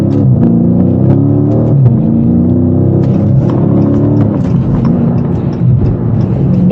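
An automatic-transmission car launches hard, its engine a loud, steady low rumble with droning harmonics heard from inside the cabin, continuous throughout.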